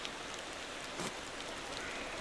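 Rain falls steadily and softly in the Motor Town driving game, an even patter with a slightly brighter burst of drops midway and no talk.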